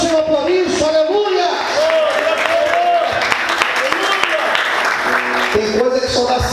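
A church congregation claps in praise during a sermon, a loud, dense round of applause with voices calling out over it and a speaking voice coming in at the start and again at the end.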